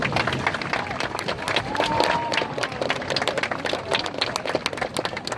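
A crowd at a high school graduation ceremony claps in a sustained round of applause, with scattered cheers mixed in.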